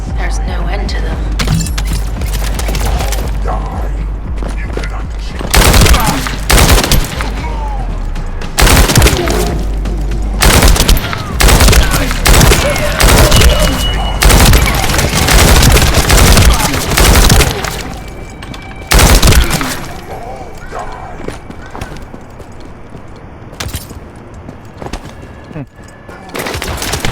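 Rapid gunfire and heavy booms in the sci-fi looter shooter The First Descendant, loud continuous bursts filling a busy battle with a voice talking over the shooting.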